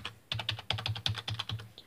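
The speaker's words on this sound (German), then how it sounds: "Eine Microsoft Tastatur. Oder besser gesagt eine Windows. Aus dem Jahr 1995 bis 98 produziert." Rapid clacking keystrokes on a Microsoft Windows KWD 205 keyboard produced from 1995 to 1998, a quick uneven run of about a dozen close, crisp key presses with no talk.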